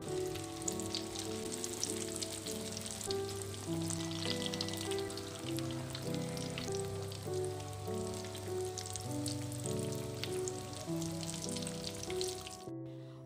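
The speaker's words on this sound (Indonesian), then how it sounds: "Terus langsung di sini lanjut untuk goreng si risolnya." Risoles deep-frying in hot oil give off a steady, even sizzle that runs the whole time beneath louder melodic background music, then cuts off abruptly at the very end.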